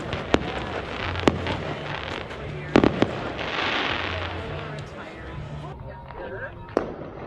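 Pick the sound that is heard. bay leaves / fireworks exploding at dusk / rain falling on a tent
fireworks exploding at dusk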